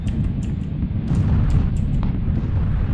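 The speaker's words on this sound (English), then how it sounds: "we're in the red zone. So everything is just gonna bomb us." Red zone bombing in PUBG lands as loud, deep, rumbling explosions that roll on continuously, with sharper pops and debris cracks scattered over the heavy low boom.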